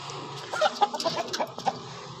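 An Aseel hen clucks nearby in a handful of short, uneven bursts over a quiet background.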